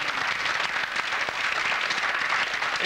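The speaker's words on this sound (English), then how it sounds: "Give him a round of applause, ladies and gentlemen." Studio audience applause on a television cooking show, a dense, continuous roar of clapping at moderate distance with no talk over it.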